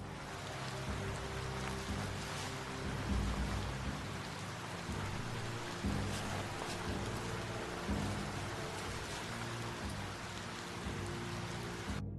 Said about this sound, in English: At least the rain doesn't burn too bad.